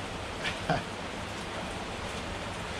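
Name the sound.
rain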